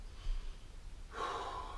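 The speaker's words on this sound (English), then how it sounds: "Gotta update my breathing pattern there. Breath in on the way down." A person inhales sharply and audibly during a bodyweight workout, a single close, breathy intake of air following a soft low thump.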